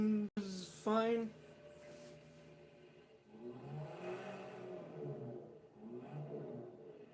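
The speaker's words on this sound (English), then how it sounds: "Why was the engine revving just now?" A car engine revs up and roars in long, swelling bursts at moderate distance, preceded by a couple of sharp, bright tonal sounds at the start.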